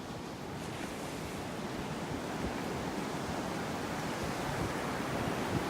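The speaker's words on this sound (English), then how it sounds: "Some nice little waves out here." Small waves wash and break continuously nearby at Naples Pier, a steady soft roar of surf with light wind noise in the background.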